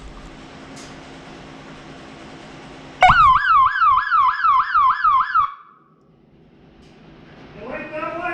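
A loud warbling alarm horn in a tugboat engine room blares for a couple of seconds, then cuts off, leaving low machinery hum; a faint rising tone follows near the end.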